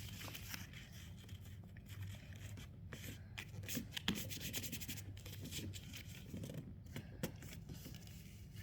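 Paper being folded into a paper airplane, giving faint, close rubbing, creasing and scraping sounds that run continuously for several seconds with occasional small crackles.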